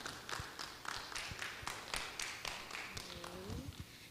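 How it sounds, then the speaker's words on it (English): A round of applause after a presentation on education and immigration at a youth event: a modest number of distinct hand claps, fairly faint, with a brief voice near the end. "Can we give a bigger round of applause"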